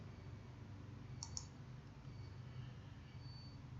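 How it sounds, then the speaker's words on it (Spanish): A computer mouse gives two quick, faint clicks in close succession over a steady low background hum, with no voice during them. "Hago un clic en la número 3."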